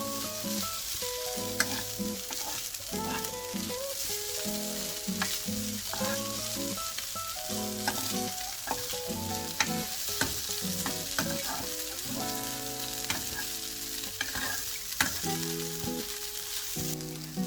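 Chicken samosa filling with bell peppers and carrots stirred in a frying pan, a steady sizzle under repeated scraping and clattering strokes of the spoon against the pan throughout, close and fairly loud with no talking.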